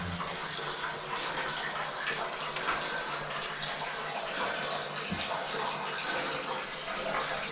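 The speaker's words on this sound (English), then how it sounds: "Well, there's our waterfall that we can hear." A small waterfall splashing deep inside the Golden Age goldmine in New Zealand, a steady rushing wash of water echoing close by, continuous and unbroken with no talk.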